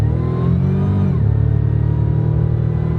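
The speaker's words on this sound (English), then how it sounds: "you can hear that supercharger whine." A supercharged Pontiac Fiero accelerates from inside the cabin, its engine note climbing then dropping into a steady drone with a thin whine layered above, heard close and alone.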